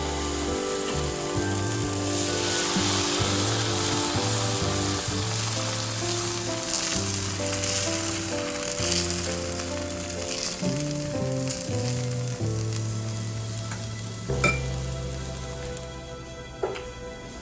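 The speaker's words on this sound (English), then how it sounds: "Place a skillet like this. Let's make the dosa." Moong bean dosa batter sizzles on a hot skillet, a steady crackling fry heard throughout with soft background music playing underneath.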